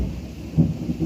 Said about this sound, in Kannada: ಸಿಡಿಲು ಕೂಡ ಬರ್ತಾ ಇದೆ